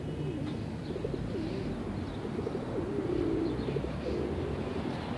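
Pigeons, including a red Bango, cooing in soft low repeated phrases, steady and fairly close over a constant background hiss, with no talking.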